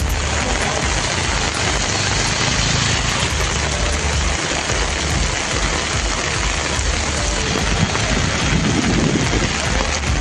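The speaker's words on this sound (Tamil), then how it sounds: "கிருஷ்ணகிரி மற்றும் அதன் சுற்றுவட்டார பகுதிகளில் 1 மணி நேரம் கனமழை வெளுத்து கட்டியது." Heavy rain pours down steadily in the Krishnagiri area of Tamil Nadu, a loud, dense, unbroken hiss of water at close range with no voices.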